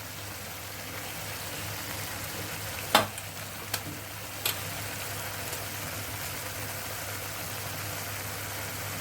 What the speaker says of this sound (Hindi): अब इसको ऑयल सेपरेट होने तक भूनेंगे।